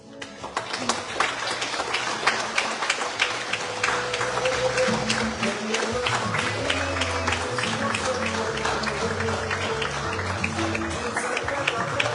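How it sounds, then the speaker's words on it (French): Mourners at a funeral break into sustained applause, a dense, close clapping that swells early and holds steady, with low murmurs and occasional tones beneath it. "je vous invite à lui faire un tonnerre d'applaudissements"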